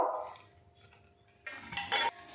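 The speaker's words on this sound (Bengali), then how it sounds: "এবার ঢাকনাটা খুলবো" A pressure cooker lid comes off after steaming eggplant, tomato and potato, giving two short, close metallic clanks after a quiet stretch.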